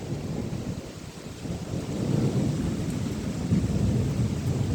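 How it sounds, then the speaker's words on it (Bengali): A deep, continuous rumble of thunder rolls under steady rain during a sudden storm, swelling louder midway and staying heavy to the end. "অনেক বৃষ্টি, ঝড় এবং ডাক, বজ্রপাত হচ্ছে।"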